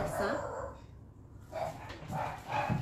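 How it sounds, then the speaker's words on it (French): A couple of dogs bark in the background, a few short yaps rising and falling over a quiet room with some soft voice-like sounds. "excusez si vous entendez mes chiens"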